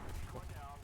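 Burst of machine gun fire from a World War era aircraft in the War Thunder flight game, a short dense rattle of shots over engine drone, with a voice speaking over it.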